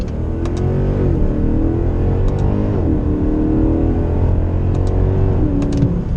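A Mercedes C63 AMG with 451 horsepower accelerating hard: a loud, steady engine roar rising in pitch through each gear and dipping briefly at every shift, heard from close by with no talk.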